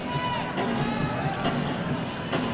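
Crowd at the Araneta Coliseum during a PBA basketball game between Purefoods and Ginebra, a dense, steady arena murmur with light cheering, heard under a commentator's voice.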